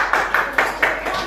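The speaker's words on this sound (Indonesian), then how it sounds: "Tepuk tangan." A classroom of children claps hands in a rhythmic pattern, five sharp group claps spaced evenly and close by.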